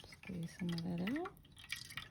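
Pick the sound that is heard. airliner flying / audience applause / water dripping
water dripping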